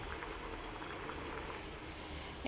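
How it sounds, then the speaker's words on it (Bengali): Beef bhuna cooking in a pressure cooker, a faint, steady bubbling boil with soft liquid hiss running throughout, quiet and without voices. "এবার আমি মাখাই নিয়ে আমি এটা প্রেশার কুকারে রান্না করছি"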